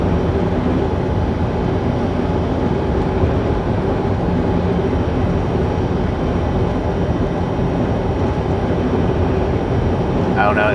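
A Union Pacific tanker freight train passes as a constant loud rumble and roar heard from inside a moving truck cab in Utah, unbroken throughout with road noise mixed in.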